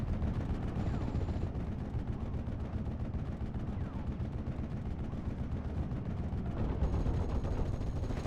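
Rapid machine gun bursts and heavy cannon fire in a World War II strategy game battle between Guards infantry and a 21st Panzer force, a dense and continuous barrage of crackling shots with deeper booms rolling beneath.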